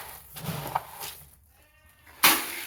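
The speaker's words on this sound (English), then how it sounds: "The goats are hungry. You can hear them making all their racket." A few hungry goats bleat nearby on a farm, short wavering calls spaced apart, the last one loud and sharp.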